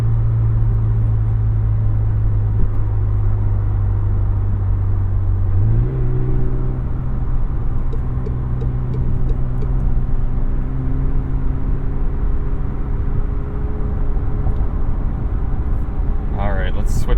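A 2021 McLaren 720S drives in steady traffic, its engine a constant loud drone that shifts up in pitch partway through, with a continuous rumble throughout and a short rising whine near the end.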